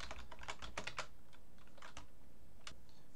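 Someone types on a computer keyboard, tapping a quick burst of clicky keystrokes that thins to a few scattered taps. The sound is close but soft, with no voices.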